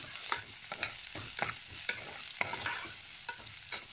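Onions sautéing with salt in a frying pan, a steady sizzle under repeated sharp scraping strokes of a spoon stirring roughly every half second, close and moderately loud, no voices.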